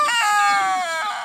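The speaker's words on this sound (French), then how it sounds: "Donc voilà mon couple de poules févroles." A young rooster among a pair of Faverolles chickens gives one loud, close, drawn-out call lasting just over a second, its pitch sliding gently downward.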